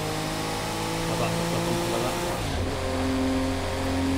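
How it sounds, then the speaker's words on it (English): A racing car engine in Project Cars 2 drones loudly and continuously, its pitch shifting as it revs and changes gear partway through. "I can't hear you over the car, Jimmy boy"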